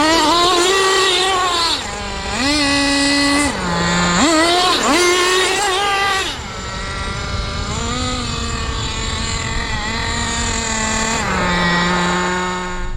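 Traxxas nitro RC car with a Subaru body idles and revs just after a hot lap, its small engine buzzing loudly and close, rising and falling in pitch with repeated throttle blips.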